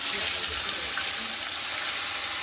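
Water pouring steadily into a cooking pan holding a simmering curry base, a continuous broadband splashing gush with no talk.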